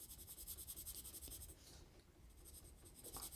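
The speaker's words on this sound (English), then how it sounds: "This is a kind of a standard graphite writing pencil." A standard graphite writing pencil scratches across paper in quick, close, steady strokes with a soft rhythmic texture and a brief pause midway, no talking.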